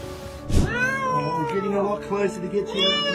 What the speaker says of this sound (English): A cat got stuck in a small crack between two walls and was begging for help.